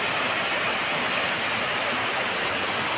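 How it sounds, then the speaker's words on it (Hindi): Loud, dense roar of a waterfall near a village, water crashing continuously with an unbroken broadband rush and no pauses. "वहाँ दिखाइए जो वो वाटरफॉल दिख रहा है, पानी जो गिर रहा है वहाँ पे"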